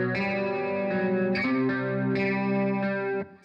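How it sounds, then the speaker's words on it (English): Strummed electric guitar chords through a chorus pedal, with a shimmering, wavering chorus effect, several sustained strums ringing together before stopping abruptly. "You can hear I got the chorus pedal on now."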